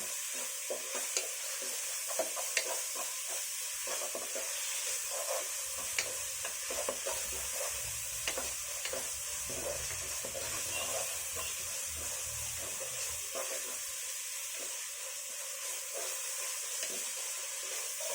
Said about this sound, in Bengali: এগুলোকে আমি পেঁয়াজে আদা রসুনের কাঁচা গন্ধটা যাওয়া পর্যন্ত কষিয়ে নেব